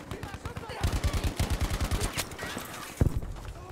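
Rapid automatic gunfire in the video game Fjell Frontlines, a steady burst of rhythmic shots followed by a couple of heavier, louder reports near the end, with a voice speaking faintly underneath.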